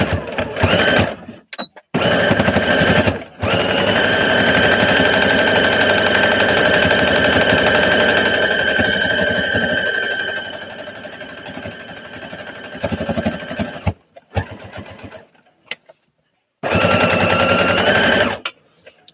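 A sewing machine stitches a seam in blue dollar-store fabric, running in a long steady whir for several seconds after a few short stop-start bursts, then finishing with more brief runs near the microphone.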